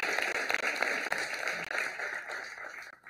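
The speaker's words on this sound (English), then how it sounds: "clap to the Lord" A church congregation claps along during a worship service, a dense, continuous patter of many hands with scattered sharper claps standing out, fairly loud, before it thins out near the end.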